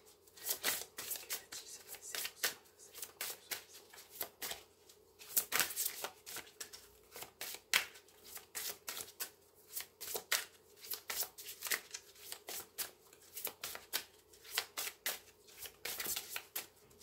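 Oracle cards shuffled for a tarot reading, a steady run of crisp riffling and slapping card sounds in irregular bursts, close up and alone with no talk.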